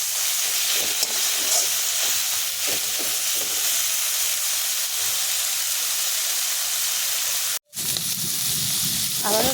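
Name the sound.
stirring fiddlehead greens (dheki shak) with shrimp cooking in pan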